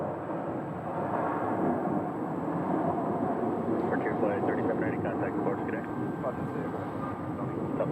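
A steady, broad airplane roar at Phoenix Sky Harbor Airport holds through the whole stretch with a faint high whine above it, moderately loud and continuous.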